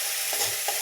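Onion and garlic frying in oil in a pan, heard as a brief, steady hiss with faint stirring bumps, quiet and free of voices.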